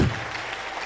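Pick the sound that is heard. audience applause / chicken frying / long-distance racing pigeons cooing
audience applause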